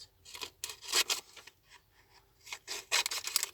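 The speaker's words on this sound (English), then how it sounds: "I'm gonna just trim off this happy birthday just in case I'll use that" Scissors trim a strip of card paper bearing a printed happy birthday greeting while a handmade card is made, giving several close, soft rasping snips in irregular bursts with short pauses between.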